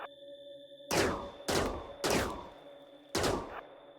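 Four sharp gunshots, evenly spaced and close, each with a quick decaying tail, fired at zombies in the RimWorld video game over a steady tonal hum.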